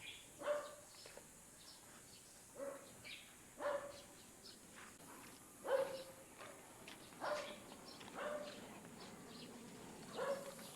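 Energetic puppies yip and whimper in short, high bursts, about seven quick calls spaced a second or two apart, fairly close and over a quiet background.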